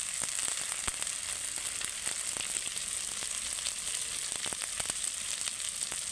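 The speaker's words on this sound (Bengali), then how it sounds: "কালার আনার জন্য একটু লাল লঙ্কার গুঁড়ো দিয়ে দেবো তেলেতে।" Spices with red chili powder frying in hot oil for a pumpkin, potato and chickpea curry, a steady crackling sizzle with frequent sharp pops and spatters, no talking.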